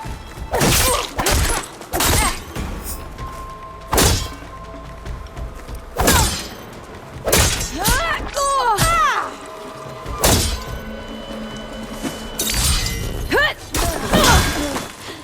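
Machines in Horizon Forbidden West burst apart in a string of loud, sharp crashes and shattering impacts, spaced across the stretch with metallic ringing tails between hits.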